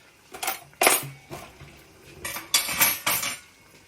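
Metal cutlery clinks and rattles in a handful of short bursts, forks and knives knocking together close by, with brief pauses between.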